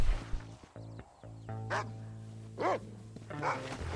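In Red Dead Redemption, a dog gives several sharp barks and yips spaced apart over an electronic hum and game sounds, moderately near.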